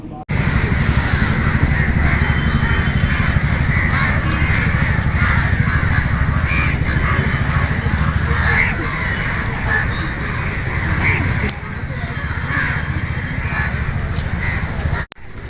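A large flock of crows caws continuously and loudly in a dense, overlapping chorus that stays busy throughout, with a brief dip near the end.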